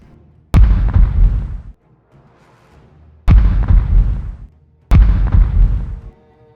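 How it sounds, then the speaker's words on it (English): Cannon fire in a tabletop Warmaster battle between Dark Elves and the Empire: three heavy, deep booms, each loud and close and decaying over about a second, spaced a few seconds apart with near silence between. "The units of cannon in the village now start to target the visible units of infantry."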